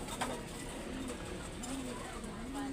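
Racing pigeons cooing inside a loft, a few low, rolling coos rising and falling over a constant backdrop of room noise.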